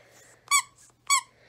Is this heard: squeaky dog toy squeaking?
yes